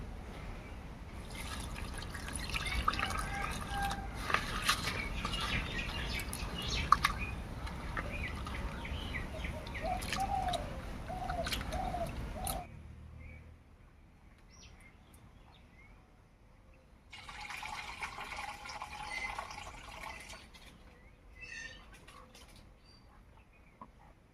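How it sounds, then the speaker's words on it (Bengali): Flattened rice (chira) rinsed by hand in a bowl of water, the water changed several times: close sloshing, splashing and trickling for about twelve seconds, a quieter pause, then another burst of swishing and pouring. "চিরাটা প্রথমে পরিষ্কার করে ধুয়ে নেব তিন চারবার জল পাল্টে পাল্টে"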